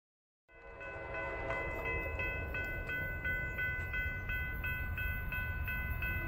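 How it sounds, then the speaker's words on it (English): A northbound Union Pacific intermodal freight train passes after a silent start. Its horn sounds a loud chord of tones over the continuous rumble and clatter of the cars, all close by. "Northbound Union Pacific Intermodal"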